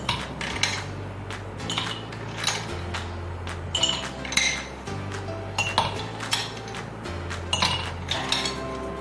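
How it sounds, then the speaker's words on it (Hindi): Ice cubes dropped into a large glass while making a mango dalgona milkshake, giving a run of sharp clinks and rattles at close range, with a low steady hum underneath. "इसमें हम सबसे पहले डालेंगे बर्फ़ के क्यूब्स।"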